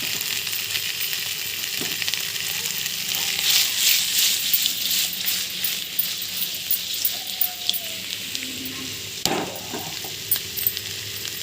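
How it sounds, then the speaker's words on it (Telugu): Bitter gourd slices fry in a pan with a steady, dense sizzle and occasional light clinks, close and continuous, with no voices. "చూడండి, కాకరకాయని ఇలా వేయించుకుంటే గోల్డెన్ కలర్గా చాలా బాగుంటుంది."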